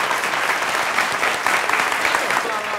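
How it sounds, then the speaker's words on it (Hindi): An audience at a comedy poetry event bursting into dense, sustained applause, many hands clapping loudly and evenly from start to finish. "तालियां बजाइए, खत्म।"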